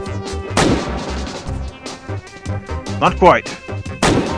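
Booming S&W 500 revolver shots with a muzzle brake fitted, fired in the VR game H3VR, loud sharp blasts at the start and end with a clattering burst between, someone speaking briefly over them.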